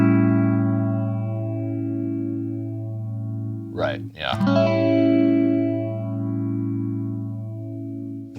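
Slow phaser sweep on a distorted electric guitar chord, its sustained tone whooshing gradually up and down as the notches move, with a brief burst of talk partway through.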